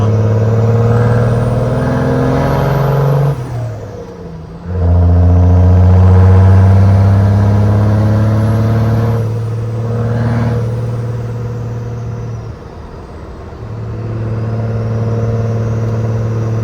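A first-generation Cummins diesel pickup with a stack engine accelerates, a deep steady drone rising and falling with throttle as it runs through gears, loud from inside the cab, with short dips between pulls.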